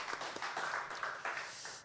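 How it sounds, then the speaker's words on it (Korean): A church congregation gives soft, scattered applause during a Sunday worship service, a brief patter of many hands heard from a distance. "우리 하나님께 영광의 박수 올려드리겠습니다"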